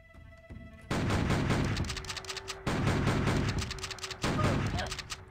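Gunfire in the video game Outlaws. Three loud bursts of rapid shots, each fading into echoing rumble, come one after another.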